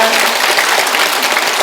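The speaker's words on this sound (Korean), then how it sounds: "우리 수고해주신 전문가분들께도 따뜻한 감사의 박수 부탁드립니다" A crowd at a residents' briefing on a new district government building claps steadily and warmly, a dense even applause that holds at full strength throughout.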